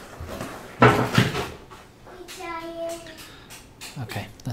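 A chair is knocked to make cats jump off it indoors, giving two sharp close thumps followed by softer shuffling and scraping noises.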